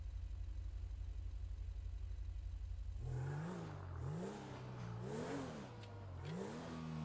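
A car in a roleplay video game idles with a steady low hum, then accelerates and revs repeatedly, its engine pitch rising and falling in waves as it drives on, loud and close with no talking.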